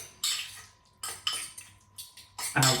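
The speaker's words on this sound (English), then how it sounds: "just give it a good old stir up" A spoon stirs a chickpea and avocado mix in a bowl, giving several separate scraping clinks against the bowl, close and clear, with no talk.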